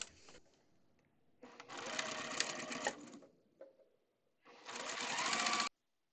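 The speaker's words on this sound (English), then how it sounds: "we are going to take this to the machine and sew a 1/4 inch seam" Sewing machine stitching a quarter-inch quilt seam with back tacks, running in two long fast bursts of steady mechanical whirring separated by a pause with brief clicks, close and clear with no talk.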